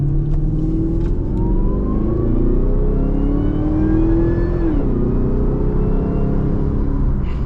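Supercharged Chevrolet Camaro ZL1 with a Corsa catback exhaust revving hard during a pull, a loud, close engine note rising in pitch, dropping briefly and climbing again with supercharger whine.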